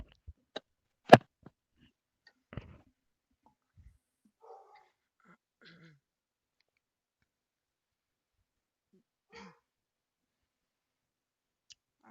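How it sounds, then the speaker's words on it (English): A single dog barks sharply once near the start, followed by a few scattered faint clicks and soft sounds in an otherwise quiet indoor room. "I don't know why Cash is barking"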